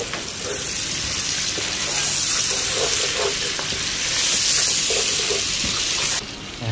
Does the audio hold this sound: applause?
no